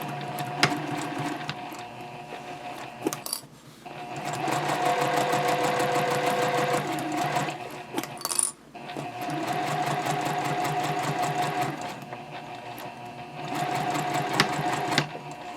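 A sewing machine runs in long steady bursts, stitching a seam at a 2.5 stitch length through fabric and foam for a nested basket. Brief pauses come between runs, and the whirring mechanical chatter sounds close and continuous.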